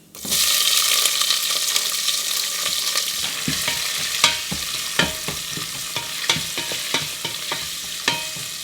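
Onion, mustard seeds and cumin seeds sizzle in hot oil for a South Indian sambar, a steady loud frying hiss with repeated sharp spatters and stirring scrapes throughout, no voices.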